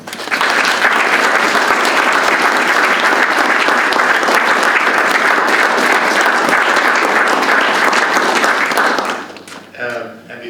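An audience applauds to welcome someone at a conversation event, a loud sustained round of clapping that fills the room for about nine seconds before fading out as a voice begins.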